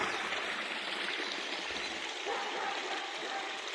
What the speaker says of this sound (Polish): Tutaj tam są takie w ziemi zakopane korytka betonowe po tych korytkach wylatuje i po prostu jest strumień.